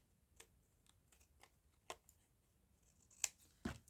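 Scissors cutting scrap paper for a junk journal craft project, a series of quiet, crisp snips spaced irregularly, with two sharper cuts near the end, heard close up and alone.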